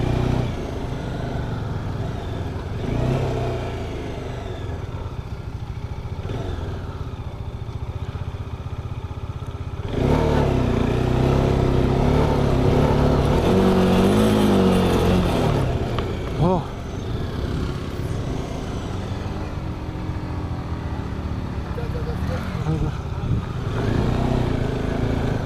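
A TVS XL 100 moped engine strains on a high Ladakh mountain pass near Umling La, a continuous laboring drone that swells louder midway, with a voice talking over it.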